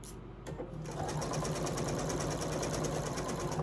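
A sewing machine stitches a seam with a continuous close rhythmic whirr that starts after a brief pause and keeps going steadily to the end.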